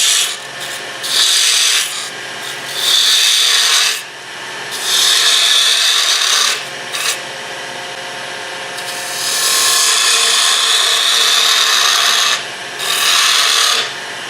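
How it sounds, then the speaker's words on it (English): A bowl gouge cuts a wooden lidded box spinning on a lathe, giving bursts of steady rasping scrape that start and stop several times, close and loud, with no voices. "I'm going to work the bowl gouge on that a little bit."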